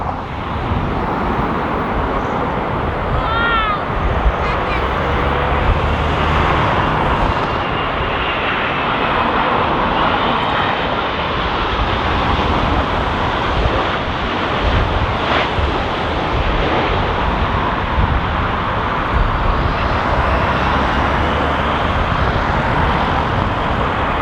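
A fixed-wing airliner lands on runway 28 left at Dublin Airport in strong gusty winds, its steady engine roar filling the whole stretch, loud and continuous with wind buffeting the microphone.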